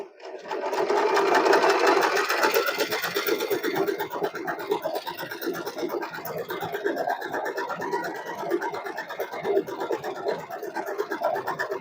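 An Usha Allure DLX sewing machine stitches continuously with a rapid, even mechanical chatter, close and fairly loud throughout.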